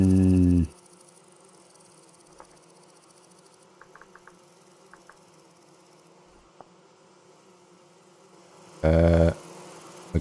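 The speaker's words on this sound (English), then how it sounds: "Oh, it's bees." Bees buzzing in the video game Vintage Story: a steady low insect drone runs throughout with a few faint clicks, framed by louder bursts of sound at the start and near the end.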